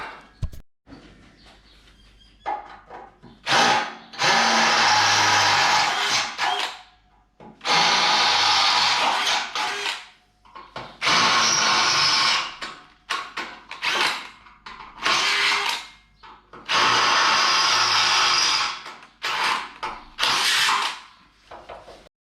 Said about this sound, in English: Take those off again and then drill them out.